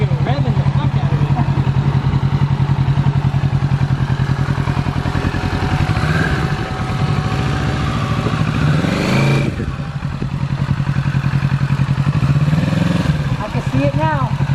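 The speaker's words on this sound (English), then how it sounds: "It looks like I'm fucking revving the fuck out of it." A 2020 Kawasaki Z650 motorcycle engine runs loud and close with a steady throbbing drone, rising in a brief rev partway through, while a person talks over it.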